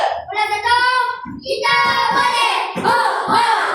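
A class of schoolchildren cheering together in a few loud, overlapping group shouts, close by in a classroom, with brief gaps between bursts.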